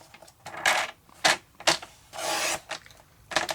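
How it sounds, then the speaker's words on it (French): Blade or scissors slicing through two stacked pieces of card, a series of short crisp rasping cuts with one longer scrape, close and fairly quiet without talk. "Je vais venir couper les 2 morceaux en même temps."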